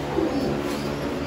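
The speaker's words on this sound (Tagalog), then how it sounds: "Ayan, dami kalapati yun." Soft, low cooing of many pigeons in a breeding loft blends into a steady murmur, close by, with no talking.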